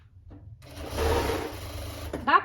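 Sewing machine hemming winter pajamas, a short whirring run of stitching lasting about a second and a half, close and fairly loud, followed by a brief voice at the end.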